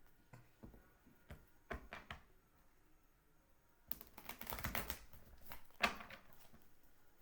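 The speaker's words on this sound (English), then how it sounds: "Let me go ahead and try to shuffle some more." Quiet, scattered clicks and taps, then a quick, crisp riffle of a deck of cards being shuffled, followed by a few more soft snaps.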